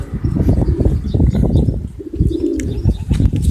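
Racing pigeons in a loft, males with females and young with old, keep up a dense, close chorus of low throaty coos with occasional soft wing flutters.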